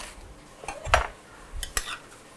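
Beans go into a cooking pot with metallic clinks and scrapes of a utensil, a few clattering hits close by.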